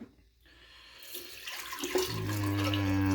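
Tap water runs into a sink to wet a boar-bristle shaving brush and Colonel Conk shaving mug, starting soft after a brief pause and building into a steady, close, splashing flow.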